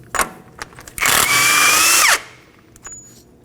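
A power impact tool with a 32mm socket spins off a front axle nut on a 2013-2019 Nissan Sentra, a loud, close buzzing whir lasting about a second, set between a few sharp metallic clicks and taps.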